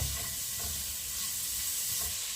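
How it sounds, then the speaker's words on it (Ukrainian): Pork fat sizzling and crackling steadily in a hot pan, a constant dense hiss with faint scraping underneath and no talking. "Сало смажиться, воно дуже-дуже-дуже ароматне."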